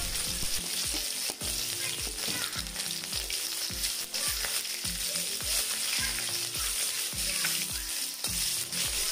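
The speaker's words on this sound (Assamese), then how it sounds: "এতিয়া কেৰাহীত তেল লৈ লৈছোঁ তেলখিনি দিম কাটি লোৱা পিঁয়াজ আৰু নহৰুখিনি" Chopped onion and garlic fry in oil in a wok for an Assamese dish, a loud, constant crackling sizzle close up, with a steady rhythmic low thumping running underneath throughout.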